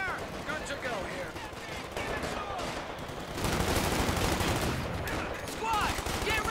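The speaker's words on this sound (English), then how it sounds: "We're taking fire!" Gunfire crackles through a Company of Heroes 2 battle, bursts of rifle and machine-gun shots layered into a dense, continuous din that swells louder in the second half, with voices calling out over the fighting.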